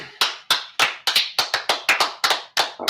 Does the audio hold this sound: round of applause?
yes